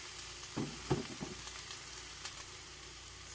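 A tablespoon of butter sizzles in a frying pan, giving a steady soft crackle with a few brief louder taps near the start, faint and continuous, with no one speaking.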